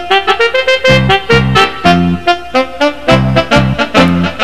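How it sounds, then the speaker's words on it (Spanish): Saxophone voice played on an upper keyboard in a live one-man keyboard band setup, with bright melodic lines over a rhythmic backing of punchy drum hits and bass, loud and continuous with no talking. "después el saxofón lo hago con un teclado que tengo acá arriba"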